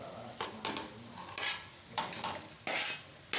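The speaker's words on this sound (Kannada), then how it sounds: "ಇವಾಗ ಉಳ್ಳಾಗಡ್ಡೆ ಹಾಕಬೇಕು" Onion goes into a pan of frying chillies and is stirred, giving a series of sharp metallic scrapes and clinks of a spoon against the pan over a faint sizzle, close and fairly loud.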